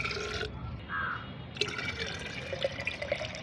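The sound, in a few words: pouring plain water into homemade aloe vera fertilizer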